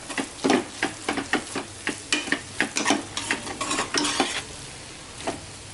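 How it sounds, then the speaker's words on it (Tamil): Ground masala for Thalapakatti-style mutton biryani is sautéed in a pan, with rapid, rhythmic spoon scrapes and clanks against the metal over a steady sizzle, loud and close, then slowing toward the end. "இப்போ இதை நல்லா வந்து வதக்கி விட்டுறணும்."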